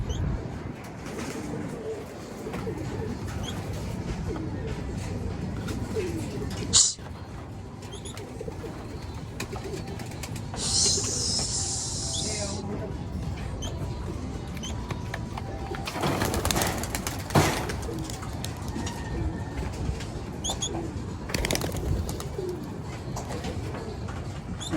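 Homing pigeons coo at a moderate distance around a new loft on their first flight, over a steady outdoor background, with a few brief louder bursts and rustles.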